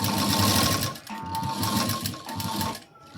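A sewing machine stitches a neck strip onto a square-necked blouse in short, fast, buzzing runs. It pauses briefly between runs and sounds close and clear, with no talk over it.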